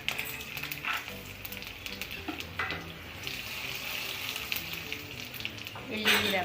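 A tempering of urad dal, cumin and dried red chillies sizzling in hot oil, a steady crackling hiss with sharper bursts as items drop in, and brief background voices.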